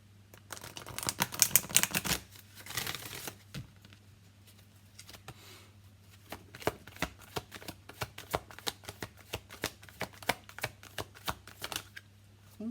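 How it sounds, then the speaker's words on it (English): An Energy Oracle card deck by Sandra Ann Taylor being shuffled at close range, with a dense flurry of riffling early, then a long run of crisp, evenly paced card slaps and flicks under a low steady hum. "we're going to use the Energy Oracle by Sandra Ann Taylor"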